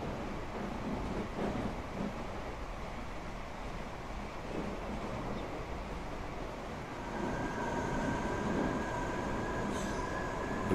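A Metropolitan Line train in Transport Fever 2 rumbles steadily as it arrives at Pinner, with a continuous low rolling noise that swells slightly and gains a faint tonal whine near the end.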